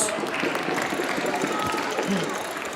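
Audience at a school eco-quiz competition applauding a primary-school team, steady dense clapping mixed with crowd noise and voices throughout the short burst.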